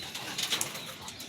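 Racing pigeon at a lap derby in Aparri, Cagayan, giving soft flutters and faint coos over a short moment, fairly close and with no talking.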